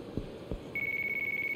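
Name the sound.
phone ringing in video game Yakuza 3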